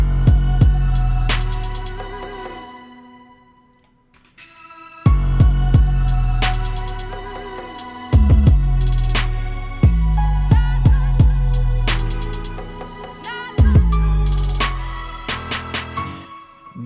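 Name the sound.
beat made in PreSonus Studio One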